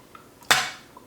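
A single sharp clink of cutlery against a plate while a crêpe is cut, one bright metallic tap that rings briefly and fades, with nothing else around it.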